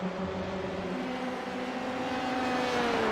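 Race cars in a Volkswagen Motorsport India touring-car race on a circuit, engines droning steadily at mid distance with a rising pitch as they accelerate, a continuous blended roar with no talk.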